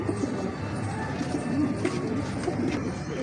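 Soft, low pigeon cooing repeats through steady background noise, with faint voices murmuring in the distance.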